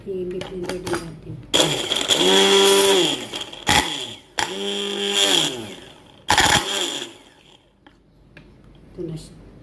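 A blender whirs loudly while blending ginger, in several bursts of a few seconds each, the motor rising and falling in pitch, with short pauses between.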